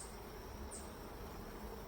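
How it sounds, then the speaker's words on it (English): Honey bees hum at a shaded nucleus hive, a faint, steady, continuous buzz with no talking. "That's a lot of bees though."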